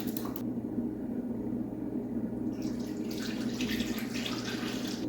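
Coolant trickling out of the radiator petcock of a 2012 Volvo S60 into a pan, a steady close wash of running liquid with a brightening splash partway through.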